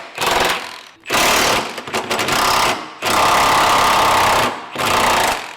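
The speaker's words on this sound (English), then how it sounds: "So we're gonna take these two nuts loose" A power tool rattles in loud bursts while loosening two nuts on a 2024 Mazda CX-90 during a lift kit install, several runs of one to two seconds separated by short pauses.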